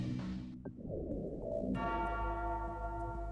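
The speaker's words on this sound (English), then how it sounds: "We've got those ominous clock tower chimes, bells, what have you." Ominous clock tower bells chime in StarCraft, a low tolling strike followed by a sustained, ringing bell tone with long resonant overtones that hang and decay.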